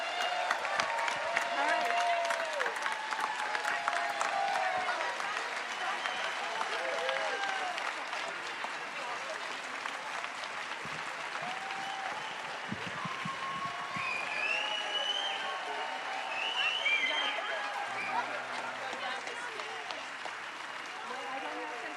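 An audience at a Sunday church service applauds steadily for over twenty seconds, a dense roomful of clapping with scattered cheers and voices mixed in.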